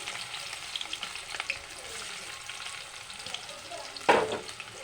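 Chopped onion and bay leaf frying in oil in a pan for chicken curry, a soft steady sizzle with light stirring scrapes and a sharper clatter near the end.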